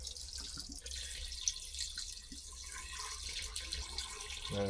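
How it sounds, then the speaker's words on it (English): Water being poured into the radiator of a Kubota RTV 900 utility vehicle, a faint, continuous splashing trickle with small drips, heard alone at low level. "Let's just badly pour some water in here."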